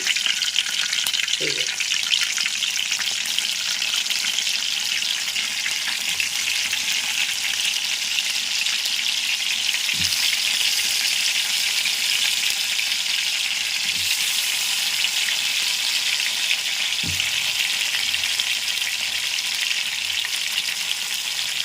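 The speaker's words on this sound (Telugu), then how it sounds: "ఇదంతా ఆయిల్లోనే చక్కగా మగ్గాలి కదా కాయి" Slit bitter gourd sizzles continuously in hot oil, a steady bright hiss close up with a few soft knocks of the pan or utensil, and no talk over it.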